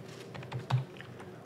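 Numbers tapped out on a computer keyboard, a short quiet run of close, crisp key clicks with no one talking.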